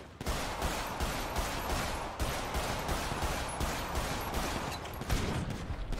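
Rapid bursts of gunfire in a GTA game crackle steadily for several seconds, a dense run of repeated shots with no voices over them.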